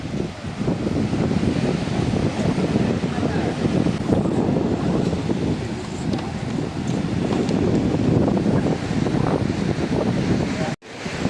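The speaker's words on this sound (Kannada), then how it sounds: "ಅಲೆ ನೋಡಿ ಹೆಂಗೆ ಬೀಚ್ತಾ ಇದೆ" Ocean waves surge and wash continuously at Kola Beach in Goa, a loud, steady roar mixed with heavy wind buffeting the microphone, with a brief dropout near the end.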